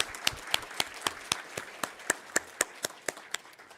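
At a Sunday church service, the congregation claps to send off a member moving to Miryang: crisp, regularly paced handclaps ring out clearly above light background clapping, with no voices heard.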